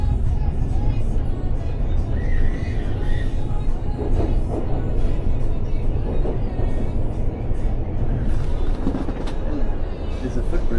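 A train rumbles steadily into a station in Brisbane, a continuous low roar of wheels and motors heard from on board, with voices talking faintly beneath it throughout.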